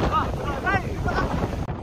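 Strong wind buffets the microphone in a steady roar, with a low rumble throughout and faint voices partly buried underneath.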